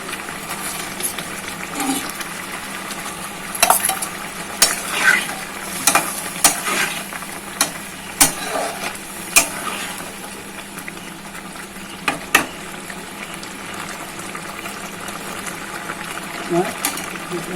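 Chhana fritters (bora) sizzle in a pan with bubbling and intermittent stirring clatter over about seventeen seconds, while a voice talks over the frying.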